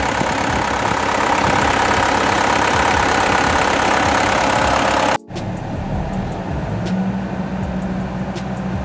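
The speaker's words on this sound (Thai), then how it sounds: "ตอนนี้ก็ติดเครื่องไปประมาณเกือบเกือบ 10กว่านาทีแล้วนะครับ" An Isuzu Dragon pickup engine idles steadily with a low, even rumble that runs continuously, broken by a brief dropout halfway through before the idle carries on, with no talk.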